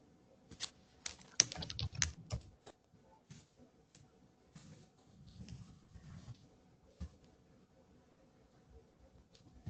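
Quick, light taps on a computer keyboard in short irregular bursts with pauses, close and fairly quiet, a few soft clicks trailing off near the end.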